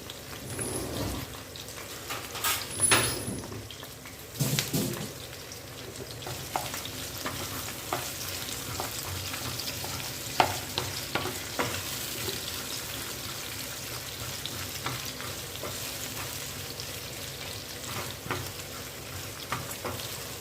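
Chillies and vegetables sauté lightly in a pan for a veg pulao, a low sizzle with intermittent scraping stirs and clatters, some louder knocks in the first few seconds and a faint running-water hiss.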